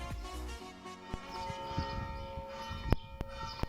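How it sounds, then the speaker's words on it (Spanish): Church bells in Montauro ring on a summer morning with sustained, overlapping tones, a few sharper strikes standing out near the end amid faint background noise. "aquí la iglesia ya está tocando sus campanas"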